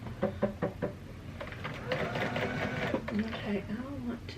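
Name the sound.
Bernina 180 sewing machine sewing a stay stitch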